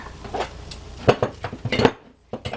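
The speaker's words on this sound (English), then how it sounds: "I'm going to open up 2 jars of French onion soup" Two glass jars of French onion soup being opened, giving a run of close clinks, taps and lid clatter with a brief quiet gap before a final knock.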